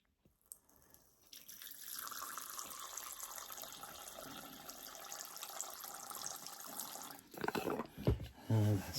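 Water runs in a steady, close stream to fill a water bowl in a Pamphobeteus tarantula enclosure, then stops, followed by a few louder knocks and handling sounds.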